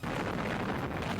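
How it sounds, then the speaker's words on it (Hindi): Chinese missile blasts during a military drill, heard as a dense, rumbling roar of explosion noise filling a brief moment at moderate loudness, with no voices. "चीन की मिसाइलों से होने वाला धमाका चारों तरफ गूंज उठा।"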